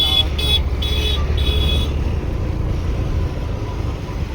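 Car driving through a crowded village road, with a steady close engine and road rumble and a few quick horn toots early on, with no clear talk.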